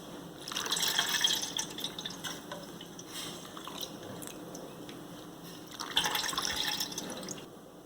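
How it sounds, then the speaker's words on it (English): Jamaican sorrel hibiscus drink being strained a second time through a fine strainer, soft trickling and dripping liquid in two louder pours with quieter splashing between, close and low in level. "So I am just straining the liquid a second time to ensure that it is properly strained and none of the petals are left behind."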